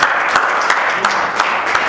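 A wedding congregation applauds for the pastor, with dense, steady clapping and a few sharper claps standing out, loud and close, with a voice mixed in faintly.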